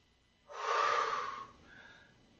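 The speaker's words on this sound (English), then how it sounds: "Big deep breaths." One deep, forceful breath during a workout, a loud breathy exhale lasting about a second, close to the microphone, with a softer tail after it, no talking.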